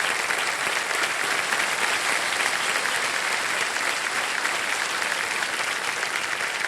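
Studio audience applause on the Indian TV quiz show Kaun Banega Crorepati, season 17: a dense, steady wash of many hands clapping, holding even and loud throughout with no break.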